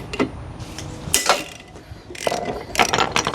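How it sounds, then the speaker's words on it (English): Sharp metallic hammer blows strike the flywheel of a 1972 Yamaha DT 250 motorcycle engine to knock it loose, landing as several irregular, close impacts with ringing edges. "I've lost my adapter for the impact, so I'm just gonna have to hammer on it."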